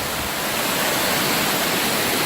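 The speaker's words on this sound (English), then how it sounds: "Got the water here, but it's coming from under the rocks." Water rushes out from beneath rocks along a trail near Moab, a loud, steady broadband roar that stays close and unbroken for the whole stretch, with no talking.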